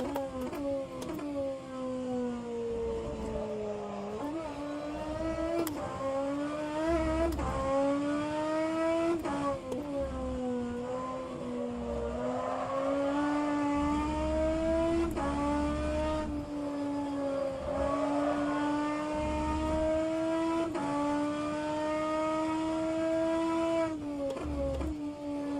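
A race car engine in the rFactor 2 racing game revs under careful throttle in first gear through a corner, its pitch rising and dipping in repeated sweeps, loud and continuous with no voices.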